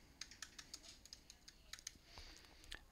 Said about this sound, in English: So you can just type snowflakes